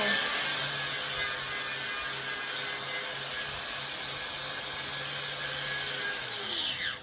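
A wire wheel grinding mill scale off a structural steel column, a continuous high rasping whine held at steady pitch and close range, tapering off at the end.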